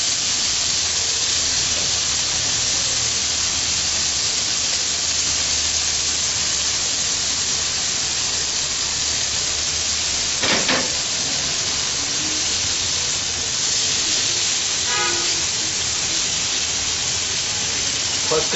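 Cheese malai boti cooks in a pan on a stove turned up to high heat, giving a loud, steady sizzling hiss throughout, broken by a couple of brief utensil clinks.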